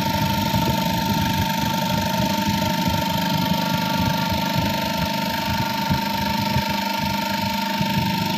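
A single-phase 5 HP electric motor runs unloaded at about 1500 rpm, giving a loud, steady, unbroken hum and whine with rattly vibration, close by and with no talking.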